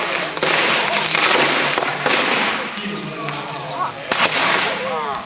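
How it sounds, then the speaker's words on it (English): Sodium metal thrown into a small lake bursts in a series of sharp cracking explosions, loud popping blasts with splashing and crackle between them, some close together and others spaced out, with outdoor party noise around. "So these are sodium explosions also, photographed with special setup."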